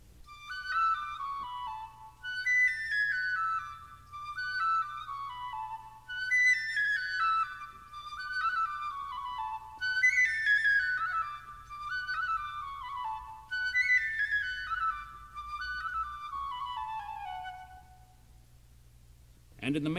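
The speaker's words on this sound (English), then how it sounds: "If, for example, the decorative passage played a moment ago by the two flutes were played on the piccolo, it would sound like this." A piccolo plays a bright, high decorative passage from an orchestral suite, repeated rapid descending runs in clear phrases, alone and close, ending abruptly.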